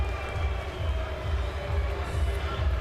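Crowd booing at a boxing match between Donnie Nietes and Juan Carlos Reveco, a steady low, rumbling roar of many voices filling the arena for a few seconds.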